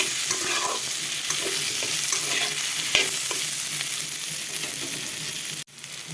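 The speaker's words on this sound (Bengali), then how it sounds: "এখন দিয়ে দিব আলুটা এখন ভালো করে ভেজে নিব পেঁয়াজ কুচির মধ্যে" Potatoes frying with chopped onion in a pan, a continuous loud sizzle with scraping and clinking from stirring, a sharp knock near the end and a brief drop in volume.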